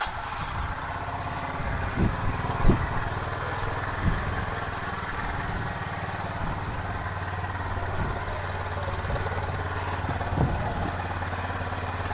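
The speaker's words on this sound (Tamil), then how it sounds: "நம்ம வண்டியை இப்போ ஸ்டார்ட் பண்ணியாச்சு" A Honda Highness motorcycle engine idles steadily after starting, a low even rumble throughout with a few faint knocks and bumps.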